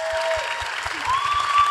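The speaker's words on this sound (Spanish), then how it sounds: "un aplauso para Cristian" An audience applauds Cristian during an RBD interview, moderate clapping with a thumping low beat and faint tonal sounds running beneath it.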